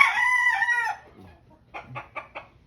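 A rooster crows once, loud and close, its call trailing off, followed by a few short clucks.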